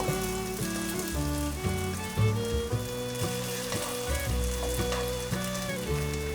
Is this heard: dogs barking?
no